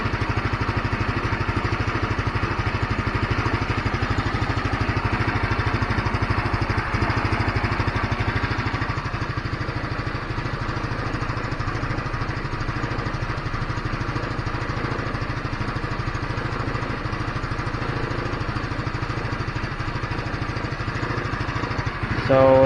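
A GY6 150cc scooter engine idles steadily for over twenty seconds, a continuous, even mechanical hum and putter close by that neither revs up nor dies out.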